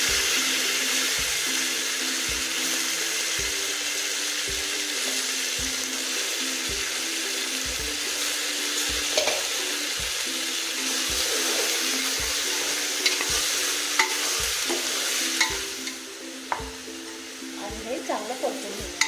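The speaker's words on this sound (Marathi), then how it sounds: "आता आपण मटण टाकून घेऊया।" Mutton pieces sizzling steadily in a hot pan, a continuous loud frying hiss with regular scraping stirs of a spoon against the pan and a few clinks near the end.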